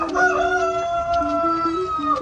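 A rooster crows in a long drawn-out call, loud and close, with harmonic tones holding steady then breaking into a wavering finish, set at a rural spot in Bacolod in the Philippines.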